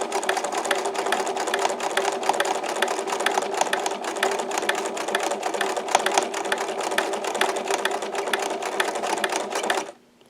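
A sewing machine runs a steady, fast stitching burst for a bar tack while a mattress bench is buttoned, loud and continuous for about ten seconds before stopping abruptly.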